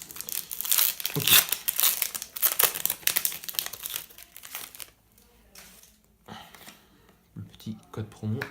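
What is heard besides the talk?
opening a Pokémon card booster pack wrapper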